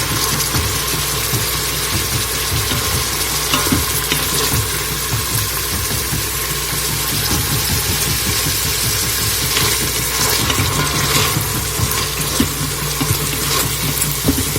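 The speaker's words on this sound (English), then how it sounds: "I just want to release the oil. Just stir it until that onion is translucent." Onion sizzles in oil in a cooking pot while being stirred, a loud, continuous hiss and crackle with a steady hum underneath and scraping stir sounds throughout.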